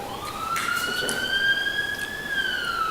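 An emergency vehicle siren wails through the city, a steady rising and falling tone sweeping continuously and moderately loud over low street noise, with no talking.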